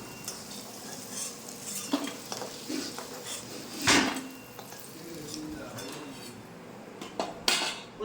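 Fried potatoes lifted out of a pan of oil with a metal utensil: scattered scraping and clinking scrapes against the pan, one louder clank, over a faint background hiss.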